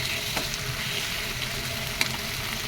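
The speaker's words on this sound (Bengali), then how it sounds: "আর একটু কষিয়ে নেব।" Fish curry masala with fried potato and taro stir-frying in a pan, a steady broadband sizzle throughout with a couple of brief clinks of a stirring spoon, close and moderately loud, no voices.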